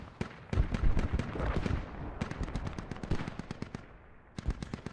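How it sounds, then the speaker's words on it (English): Rapid mortar barrage firing in the military video game Squad, a dense run of loud booming and cracking shots with overlapping rumble, a brief lull, then another burst of sharp reports near the end. "Mortar barrage does claim one or two."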